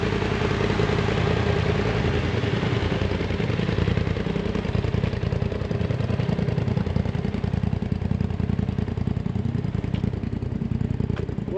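An off-road vehicle's engine idles on the Rubicon Trail, a steady loud rumble with a fast, even clattering pulse running unbroken from start to finish.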